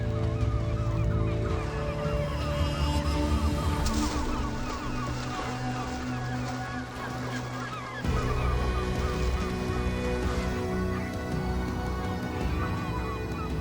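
Herring gulls squabble over fish left behind by feeding whales at sea, a dense, continuous chorus of harsh honking calls at close range, layered and overlapping throughout.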